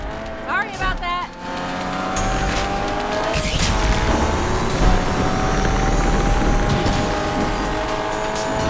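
A car in the racing game NFS Unbound drifts with sustained tire squeal over a revving engine, loud and continuous after a brief burst of rising engine notes at the start, while a voice talks over it.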